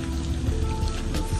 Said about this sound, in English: So I'm gonna be adding the tomato paste to it. And fry it a few minutes